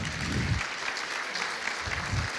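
Steady, dense audience applause from a seated crowd honoring WM patients at a welcome gathering, sustained and fairly loud throughout with low rumbling thumps.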